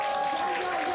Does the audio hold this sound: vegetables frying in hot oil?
no